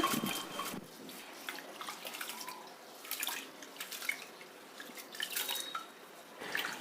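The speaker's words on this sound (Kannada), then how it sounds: "ಇದನ್ನೆಲ್ಲ ಇವಾಗ ನೀರು ಹಾಕಿ ಚೆನ್ನಾಗಿ ತೊಳಿಬೇಕು" Water splashing and dripping in a bowl as lentils and rice are rinsed by hand for dosa batter, intermittent sloshes and drips, close and fairly quiet.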